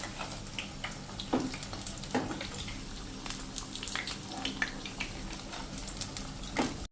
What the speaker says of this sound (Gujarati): તો હવે એને આપણે આ રીતે ઘીમાંથી બહાર કાઢીને અને સીધી ચાસણીમાં નાખી દેશું.